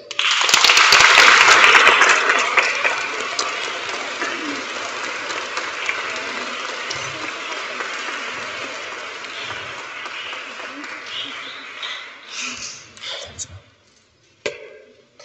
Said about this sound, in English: Give it a clap, folks